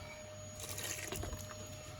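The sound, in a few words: ginger water being poured into a pot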